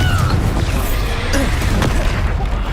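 Confringo blast spell explosions in the video game Hogwarts Legacy, a dense, loud rumbling boom with crashing debris filling the whole moment, sustained rather than a single hit.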